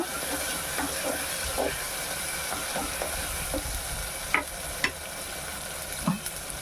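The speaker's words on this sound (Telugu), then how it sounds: "బాగా ఫ్రై అవ్వనివ్వాలి ఇలాగా టమాటా ముక్కలు కూడా ఫ్రై అయిన తర్వాత" Tomato pieces frying in a pan with onion pieces, a continuous crackling sizzle punctuated by a few louder pops and scrapes of stirring.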